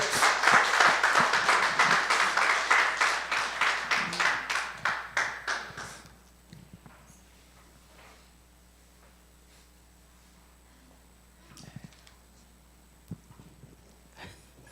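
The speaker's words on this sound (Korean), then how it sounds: "박수로 하겠습니다." An audience at a church ministry camp gathering claps loudly for about six seconds, the clapping thinning and fading out, followed by a quiet room with faint rustles and taps.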